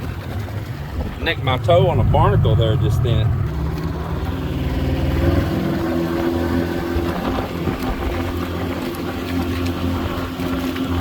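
Custom bangka boat motor droning steadily while cruising along a shoreline, a close continuous low engine hum with wind noise, while someone talks over it.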